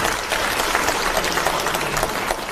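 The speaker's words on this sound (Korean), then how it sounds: "이분들께 일단 큰 박수 한번 좀 주시면 되겠습니다." Lawmakers at a People Power Party caucus meeting are greeted by an audience's dense, sustained applause that fills the room evenly from start to finish, with no voices over it.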